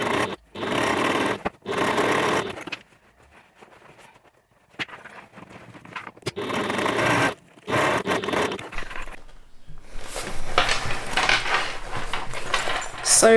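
A sewing machine runs in several loud bursts of fast stitching along the sides and bottom of a backpack bag, broken by quiet gaps with small clinks and handling noises, then a longer run at the end.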